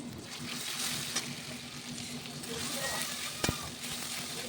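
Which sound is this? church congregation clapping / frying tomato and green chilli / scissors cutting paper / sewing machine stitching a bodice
frying tomato and green chilli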